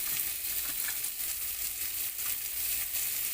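Tomatoes sauté in a pan for beef afritada, a steady soft sizzle running evenly throughout with no talking.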